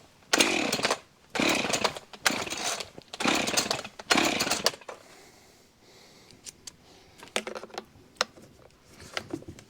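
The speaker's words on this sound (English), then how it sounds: "see if I get the chainsaw running" A Husqvarna chainsaw being started gives about five short, loud bursts of engine noise with brief gaps between them. Quieter clicks and handling sounds follow, with no voices.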